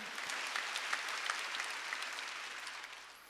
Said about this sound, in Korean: 박수 치라는 거야